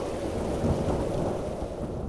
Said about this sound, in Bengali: সন্ধ্যের পর থেকেই হঠাৎ মুষলধারে বৃষ্টি শুরু হলো, আর তার সাথে ঝোড়ো হাওয়া